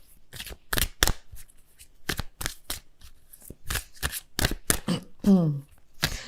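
Tarot cards being shuffled in quick repeated riffling bursts, close and fairly loud, with a brief voice-like sweep near the end.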